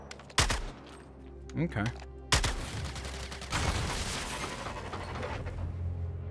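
Gunfire in the Suicide Squad Kills the Justice League video game: two loud sharp shots ring out, then a sustained burst of rapid fire with mechanical clatter, and a voice speaks briefly.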